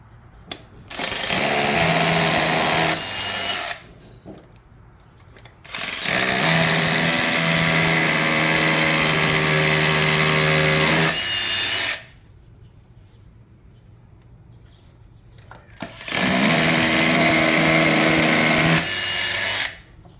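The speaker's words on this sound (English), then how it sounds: "he's going to put a few Tapcons in there" A power drill drives Tapcon concrete screws during a toilet flange repair, whining loudly in three sustained bursts of a few seconds each, separated by quiet pauses.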